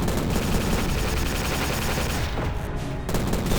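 Dense, continuous automatic gunfire from the 2006 video game Prey, loud rapid bursts filling the whole stretch with a brief lull near the end before the shooting resumes; no speech.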